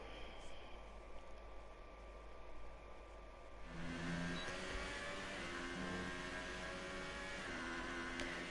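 A Formula 1 car engine on a flying lap in an F1 racing video game rises from a low hum into a steady, droning whine with layered engine harmonics that holds on through the rest of the lap.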